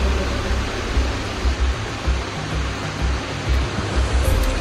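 A river near a temple retreat makes a dense, steady rush of flowing water that stays loud and unbroken throughout, with no voices.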